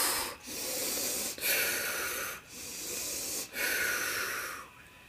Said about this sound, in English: take that heavy breathing and focus it